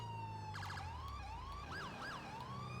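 A video game ambulance siren on a stolen ambulance during a police patrol sweeps up and down, switching to a fast yelp partway through, over a steady low engine rumble, close and loud.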